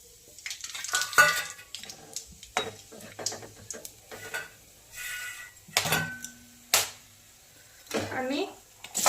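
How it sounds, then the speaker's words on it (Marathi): Cumin seeds and whole spices hitting hot oil for a tempering, short sizzling bursts mixed with clinks of a spoon against the pan, while someone speaks between the sounds. "मी आता जिरे घालून घेत आहे तेलामध्ये। बघा खडा मसाला घालत आहे"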